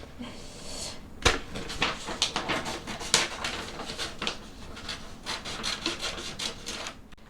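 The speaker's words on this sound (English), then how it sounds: "pick your scissors, and we're going to punch a hole in the middle to cut a door" Scissors snipping through a sheet of paper to cut out a small door, a series of close crisp cuts and rustles in an irregular rhythm, with sharper snaps at a few points.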